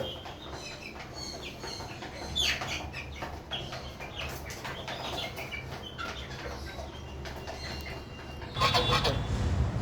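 Scattered clucks and squawks from a flock of chickens on a rainy day over a steady background rumble, with a louder flurry of calls near the end.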